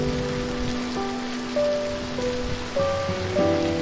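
Heavy rain pours steadily as a broadband hiss beneath a sustained musical score of held tones, with no voices.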